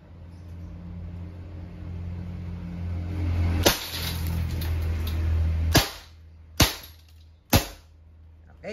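A Colt Defender .177 non-blowback airgun pistol dry-fires without pellets: four sharp, dry clicks spaced a second or two apart over a low background hum and rumble.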